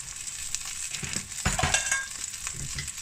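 Cooked rice tumbles into a hot pan of egg for chicken and bacon fried rice, a loud frying sizzle with scraping, rustling stirs and a few sharp clacks of the utensil, close up with no voices.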